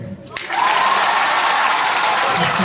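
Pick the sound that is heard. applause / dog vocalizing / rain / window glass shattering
applause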